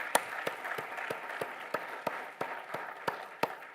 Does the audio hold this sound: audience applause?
yes